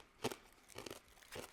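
Someone bites into freeze-dried beans eaten uncooked, producing three faint, close, dry crunches spaced out, with crackly chewing between them.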